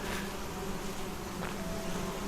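Bees from beehives in the game SolarPunk hum in a loud, continuous buzz, dense and unbroken across the short stretch, with no speech.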